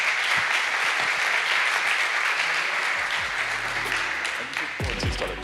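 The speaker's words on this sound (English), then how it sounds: "So big applause." Audience applause at a conference plenary session in Valencia fills the hall with steady, dense clapping at even loudness, thinning slightly toward the end as a few voices and rustling sounds emerge.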